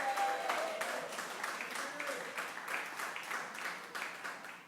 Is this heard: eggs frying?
no